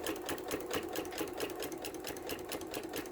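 A sewing machine back stitching rag quilt fabric runs in a fast, even rhythmic stitching chatter, close and clear, with no voices over it.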